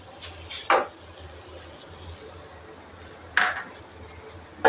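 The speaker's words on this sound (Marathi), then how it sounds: "आपला कांदा भाजून झालाय आता त्याच्यामध्येच आपल्याला खोबरं टाकून घ्यायचं" A metal spatula scrapes and clinks against a pan while onion and coconut roast, giving three sharp, separate knocks over a low, steady kitchen background.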